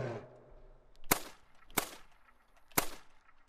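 A .22 rifle fires three crisp, sharp cracks in the hunting video game The Hunter: Call of the Wild, each shot short and separated by about a second of near-quiet.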